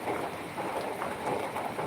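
Rain falls steadily over a village, a soft, even broadband hiss with no one speaking.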